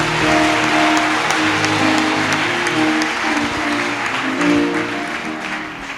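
A church congregation claps together in sustained, dense applause, loud and close throughout, with a faint hum of voices underneath and no clear speech.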